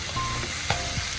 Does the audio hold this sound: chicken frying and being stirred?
yes